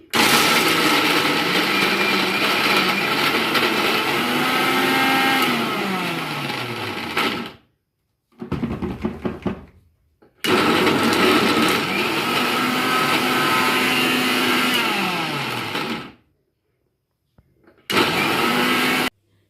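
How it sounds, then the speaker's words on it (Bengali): A kitchen blender whirring loudly while grinding dates, cashews and raisins for Bengali naru sweets, running in two long bursts with a shorter pulse between and a final brief burst, each stopping abruptly into silence. "এবার ব্লেন্ড করে নিচ্ছি"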